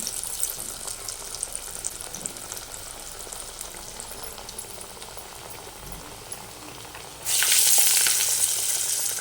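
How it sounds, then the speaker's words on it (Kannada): Vada frying in hot oil gives a continuous close crackling sizzle, which suddenly swells much louder and brighter toward the end as more batter goes in. "ವಡೆ ರೆಡಿ ಮಾಡಿಬಿಡೋಣ ಅಂತ ವಡೆ ಹಾಕ್ತಾಯಿದ್ದೀನಿ"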